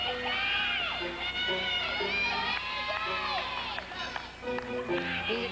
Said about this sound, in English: The crowd beginning to get into the music.